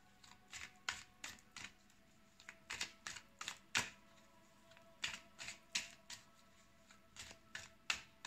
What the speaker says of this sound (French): je tire 5 cartes